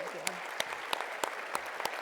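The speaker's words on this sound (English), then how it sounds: "Let's give Tiffany another round of applause" Audience applause at a City of Tampa Black History celebration, given for a woman named Tiffany: a thin, faint patter with a handful of sharp, evenly spaced claps standing out over a soft background wash.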